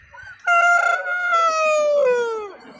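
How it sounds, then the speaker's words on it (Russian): A rooster at a poultry fair lets out one loud, close crow, a long drawn call that rises and then falls away at the end, with faint crowd noise before it. "Вот он прокукарекал, красавчик."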